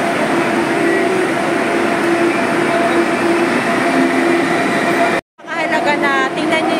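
A train at a station on the Be'er Sheba to Jerusalem line gives a loud, steady broadband rumble that breaks off abruptly near the end, followed by a different, fainter texture.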